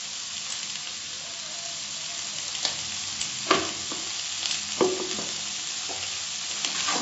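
Chicken curry being stirred in a pan after salt goes in, a steady sizzle of frying throughout with scattered scraping clicks of the spoon against the pan, close and alone with no talk.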